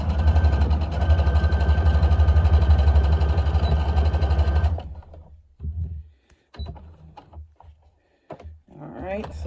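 An LB6800 Project Runway combo sewing machine chain stitches fabric for high-waist shorts, running as a steady rapid whirring hum for about five seconds before stopping, after which a person talks nearby.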